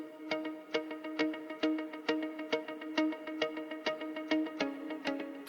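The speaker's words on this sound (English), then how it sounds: "that ended up giving me this muted guitar layer" Palm-muted guitar notes plucked in a steady, even rhythm, each short and damped, with a slightly distorted tone ringing on a sustained pitch.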